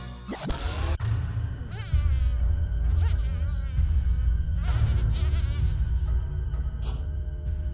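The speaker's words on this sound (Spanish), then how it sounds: "La más común es la conocida como mosca doméstica" A housefly buzzes steadily over a low rumble, with warbling tonal sounds and faint bleat-like calls rising and falling on top.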